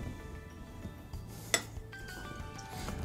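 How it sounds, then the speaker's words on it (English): A knife cuts a thin slice of no-bake peanut butter pie, giving one crisp clink against the dish amid faint, quiet scraping close by. "I'm going to slice it. I'm just going to cut a thin piece."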